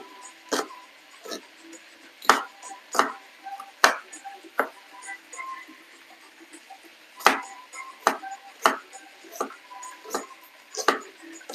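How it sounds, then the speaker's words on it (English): A knife chops an onion on a cutting board, sharp separate knocks at an uneven, unhurried pace with quiet pauses between strokes, no voices. "So right now I'm just gonna cut up the onion."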